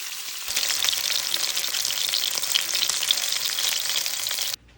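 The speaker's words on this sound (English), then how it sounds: "We're starting with a good sear on all sides of the roast" Beef roast searing in a hot pan, a steady close crackling sizzle that starts abruptly and holds evenly before cutting off near the end, with no talking.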